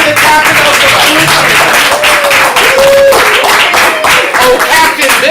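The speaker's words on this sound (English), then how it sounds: "Keep the applause going for the captain of the team." Sustained audience applause at a ComedySportz improv comedy show fills the whole stretch, dense and steady, with faint talking and a few shouts riding underneath.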